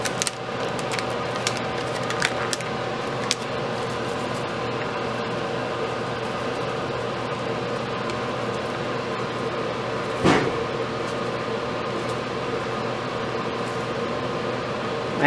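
A home kitchen oven gives off a steady, loud whirring drone like a fan running, with a few brief clicks near the start and one short louder burst partway through, and no talking.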